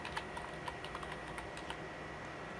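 Quick bursts of typing on a computer keyboard, light close key clicks in short uneven runs at low volume, with no talking.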